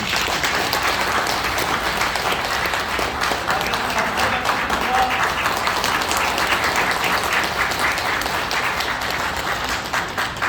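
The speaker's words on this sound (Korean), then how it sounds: "큰 응원의 박수 부탁드립니다." Audience applause at a retirement ceremony for the director of the Gapyeong County forestry cooperative: dense, steady clapping from a crowd that holds at full strength for the whole stretch, with no talking over it.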